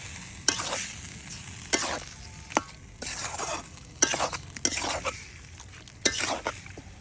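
Chicken pieces with turmeric fry and sizzle in a pan for a spicy curry, with a steady hiss broken by repeated sharp scraping stirs about once a second, close and fairly loud, no talking.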